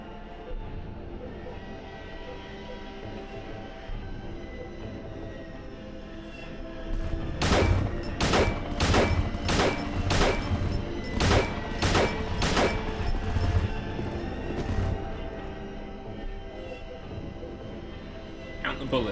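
A rapid series of about eight loud handgun shots rings out in the Silent Hill video game, spaced roughly half a second apart over a steady background hum.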